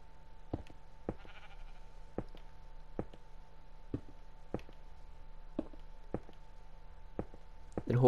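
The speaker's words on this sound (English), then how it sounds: "hopefully there's a few sheep up here that we can actually get wool from" Sheep bleat in Minecraft on a hilltop, alongside a steady series of soft, evenly spaced footstep taps. The bleats sound quiet and close, with no talking.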